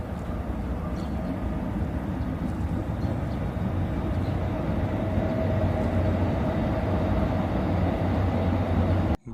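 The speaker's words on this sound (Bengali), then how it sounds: "ট্রেন এখন ছেড়ে যাচ্ছে ডাঙ্গাপাড়া স্টেশন।" The 12022 Janasatabdi Express pulls out of Dangapara station on a rainy day, heard from inside the carriage as a steady, loud low rumble of wheels and running noise that continues without a break.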